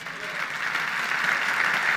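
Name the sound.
congregation applauding in church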